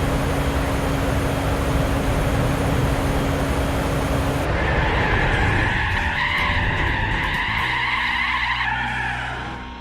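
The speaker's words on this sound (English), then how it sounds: "Let's burn those tyres." Car tyres skid loudly and continuously in Gran Turismo 4, a harsh engine roar giving way to a sustained, wavering screech that slowly fades at the end.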